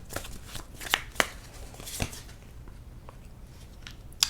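Tarot cards are shuffled and pulled, giving soft riffling, with a few sharper snaps and slaps as cards are drawn. The sounds are close and moderately quiet, with no clear talk.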